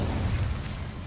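A fiery Incendio spell cast in Hogwarts Legacy, heard as a steady low roaring burst of flame lasting about a second, loud and close with no talk over it.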